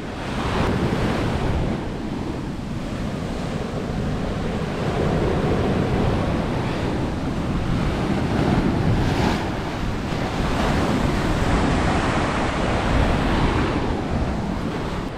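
Rough sea at Baththalangunduwa island crashes onto the shore in a continuous, loud roar of surf, mixed with strong wind buffeting the microphone throughout, with no voices.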